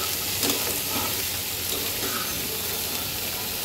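Small mola fish with spices being mixed and fried in a pan, a loud close sizzle with soft stirring scrapes and knocks over a constant hiss, brief and without talk.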